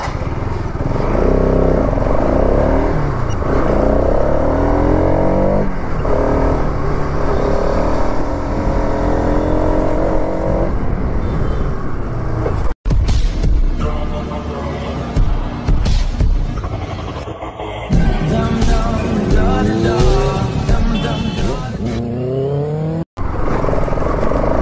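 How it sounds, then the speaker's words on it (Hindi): Busy road traffic with cars and motorcycles roars continuously and close by, engines revving and rising and falling as vehicles pass, broken by two short cuts. "इधर ट्रैफिक में ना क्या ही बताऊं मैं भाई"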